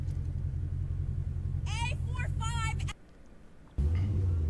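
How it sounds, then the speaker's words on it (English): A car engine rumbles steadily up close while a voice speaks briefly over it; the engine cuts out, then roars back louder. "Oh, because my car is loud."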